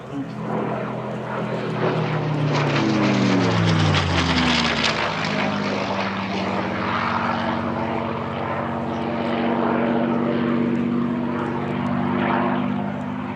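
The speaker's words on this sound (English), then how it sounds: "you're hearing the sound of the P-51D Mustang known as Plum Crazy" The P-51D Mustang warbird 'Plum Crazy' flies a display at an airshow. Its loud, droning engine and propeller fall in pitch as it passes, then hold a steady roar, with an announcer talking over it.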